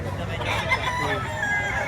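A rooster crows at a busy chicken market in Batangas, a drawn-out call rising over background chatter and nearby clucking, with someone talking.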